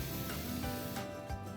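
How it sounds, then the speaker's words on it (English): Oil is sprayed into a bowl in a steady, close hiss that runs almost unbroken for a moment before easing off, with no voices. "I'm going to quickly take a bowl in which I'm going to spray some oil"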